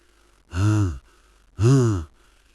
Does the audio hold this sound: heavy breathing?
yes